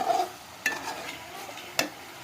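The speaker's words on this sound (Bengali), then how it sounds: "এখানে ফ্রাই করে এখানে রান্না করতেছি" Meat frying in a pan, soft close sizzle beneath a couple of sharp metallic scrapes and clinks as it is stirred, brief and fairly quiet.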